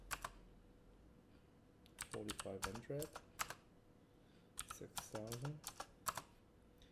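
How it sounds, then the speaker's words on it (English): Typing on a computer keyboard during a CAD drafting lesson, two short bursts of crisp key clicks separated by a pause, with someone speaking numbers between them. "and keep typing"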